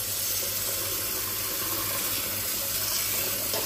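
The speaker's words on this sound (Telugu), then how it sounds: "3 గ్లాసెస్ బియ్యం తీసుకొని దీన్ని మంచిగా వాష్ చేసుకుందాం" Tap water runs steadily into a pot as three glasses of rice are rinsed for paneer biryani, a continuous close splashing wash with no talking.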